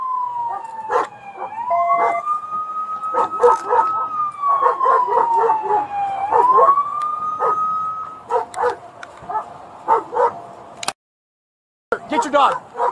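A dog barks and howls in sharp bursts during a tense police highway stop, with a wailing patrol car siren sweeping up and down throughout and shouting voices nearby.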